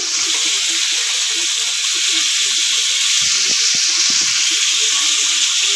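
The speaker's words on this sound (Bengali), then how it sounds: "মাছগুলো এক পিঠ ভাজা হয়ে গেছে, আবার উল্টে দিচ্ছি।" Flipped prawns fry in hot oil, giving a steady, fairly loud hiss that runs throughout with a few soft knocks and clinks from the pan, and no talking.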